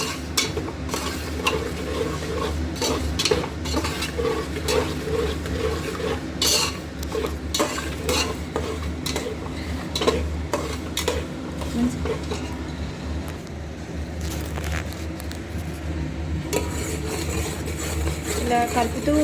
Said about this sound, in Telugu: ఇలా కలుపుతూ వేయించాలండి, అది మరిగి మసలు పెట్టాలి